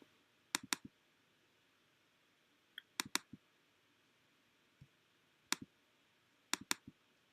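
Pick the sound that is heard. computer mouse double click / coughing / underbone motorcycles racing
computer mouse double click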